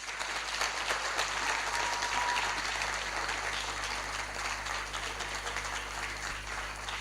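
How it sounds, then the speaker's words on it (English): Audience applause welcoming a guest lecturer, Professor Kolawole Aliyu, at a citation event: sustained, dense clapping from a crowd over a steady low hum, holding even for the whole stretch. "Please keep clapping until Professor Aliyu gets here."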